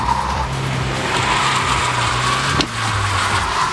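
A Peugeot 208 GTi 30th Edition slides sideways on a race track, its tires squealing loudly over a revving engine, with a sharp jolt near the end and no speech.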